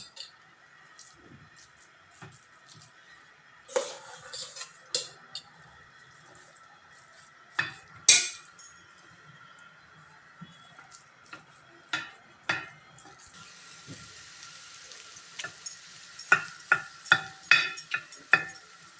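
A metal spatula chops soaked parotta mixed with salna in a hot pan, giving sharp irregular clanks and taps that come in bursts and speed up toward the end over a faint sizzle, with no talking.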